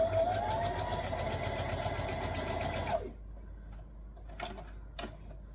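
Sewing machine stitching stretchy knit fabric around a curve on a tulip-style tee, a steady rapid mechanical whirr running loud and close for about three seconds, then stopping, followed by a couple of brief clicks and handling sounds.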